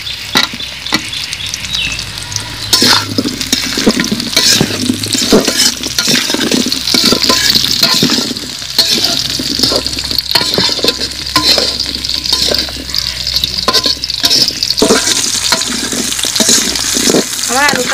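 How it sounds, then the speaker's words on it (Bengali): Potatoes fry together with onions in a pan, giving a loud, steady sizzle broken by repeated scraping stirs of a spoon against the pan. "পেঁয়াজের সাথে ভেজে নিব আলুগুলো"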